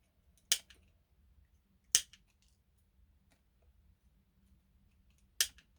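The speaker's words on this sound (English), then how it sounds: "I'm just going to cut them right off the branch." Scissors snip decorations off a craft branch for a galvanized Christmas bottle-cap plaque: three sharp, crisp cuts spaced well apart in an otherwise quiet room, close and clear, no talking.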